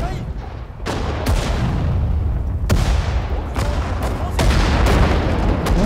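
Several heavy booming shots ring out from a cannon in Sudden Strike 4, sharp blasts every second or so over a constant rumbling battlefield din.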